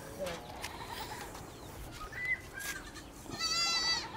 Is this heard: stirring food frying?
no